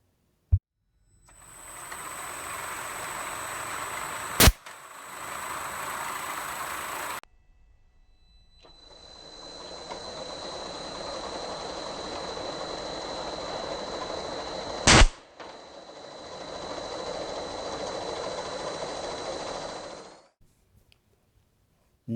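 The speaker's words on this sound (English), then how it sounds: "it will be rejected by a perfectly timed air blast that will not affect the leading or the trailing cup" A yogurt cup sorting line hums steadily while two sharp, loud air blasts fire about ten seconds apart to reject unreadable cups, each a brief hiss cracking over the conveyor's running noise.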